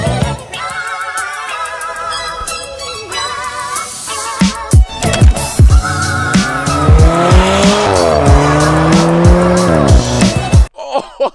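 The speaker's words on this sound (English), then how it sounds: "another car, oh, the Alfa Romeo 4C" Alfa Romeo 4C with a turbocharged four-cylinder engine driving hard, its loud engine note climbing and shifting through gears with repeated tire squeal, close and continuous before cutting off abruptly near the end.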